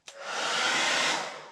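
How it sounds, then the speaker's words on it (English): A hair dryer on max switches on and blows at full power, heating a motorcycle wheel hub, a loud steady rushing whoosh filling the whole moment. "I heated up the wheel hub with a hairdryer, put it on max"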